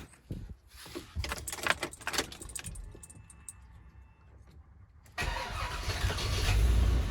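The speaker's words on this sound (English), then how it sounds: "Oh yeah, it definitely started it up." A pickup truck engine with a faulty oil pressure sensor starts up after a few seconds of clicking, cranking and rattling, then catches and settles into a loud, steady idle close by.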